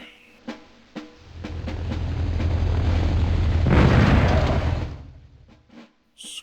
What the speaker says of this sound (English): This is Sarge. I need an airstrike.